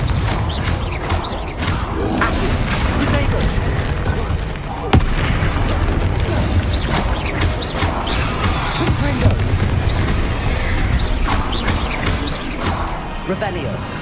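Blasting Confringo spell explosions go off repeatedly in the Hogwarts Legacy video game, dense booms and crackles layered over a constant busy game soundscape, loud and close throughout.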